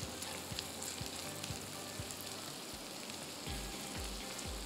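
Fish pieces sauté in butter with garlic, garlic paste, green garlic, salt and black pepper, giving a steady, fairly quiet pan sizzle with occasional soft stirring taps and no talking.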